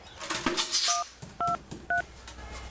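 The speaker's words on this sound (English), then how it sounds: "Hang on, I'll just ring my mum to see if it's okay." A telephone keypad dialing, with several distinct electronic tone beeps spaced out in a short sequence, clear and close, over faint background noise.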